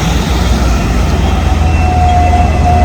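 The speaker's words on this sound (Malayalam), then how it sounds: "ട്രാം വന്ന്" Hong Kong tram pulling into its stop, a loud, close, low mechanical rumble with a thin high whine from the wheels, heard alone.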